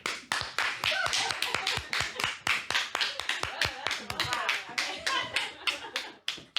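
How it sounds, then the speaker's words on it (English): An audience claps together, a quick irregular patter of close hand claps that continues steadily and loud, with faint voices mixed in. "Clap for yourself."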